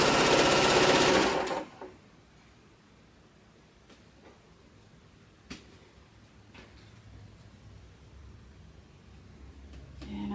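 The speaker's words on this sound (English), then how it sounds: "And I'm just sewing one's right side up and one's right side down." A sewing machine stitching orange and blue quilt squares runs loud for about a second and a half, then stops, leaving a quiet room with a few faint clicks.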